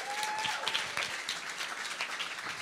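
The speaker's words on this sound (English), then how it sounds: "a big applause for the team that developed the app, Nacho, Rebecca, and Anya, all together." Dense, steady applause from an audience at a coding bootcamp demo day in Berlin, many hands clapping continuously and fairly loud for the whole stretch, with a faint voice briefly audible beneath.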